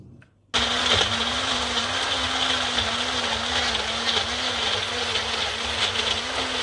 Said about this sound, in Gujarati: આ ટમાટો બ્લેન્ડરમાં નાખવાનો.